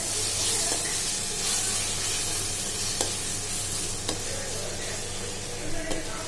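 Peeled raw mango sautés in a hot pan, a loud, steady sizzle with a spoon scraping and stirring now and then in a few distinct taps.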